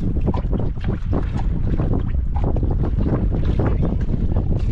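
Strong wind roars over a small boat at sea, a loud, gusting, buffeting rush that fills the whole stretch without letup, close and harsh against the microphone.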